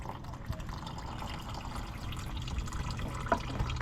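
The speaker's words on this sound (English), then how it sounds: "If done correctly, this thing drains the oil right out" Engine oil drains from a 2021 Ford Bronco into a catch pan, making a steady, soft liquid trickle and pour with a few faint drips, close and low in level.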